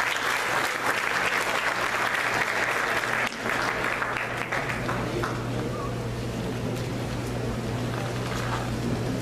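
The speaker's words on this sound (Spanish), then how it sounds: "vamos a dar un aplauso al padre Mago" A diocesan assembly audience applauds a priest, the vicar of a church district, with steady, dense clapping from a large crowd filling the whole stretch, loud and continuous with a low background hum.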